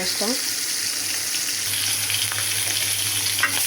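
Hilsa fish frying in a pan, a loud, continuous sizzle with stirring scrapes, close up and steady, a short squeak at the start, no talk.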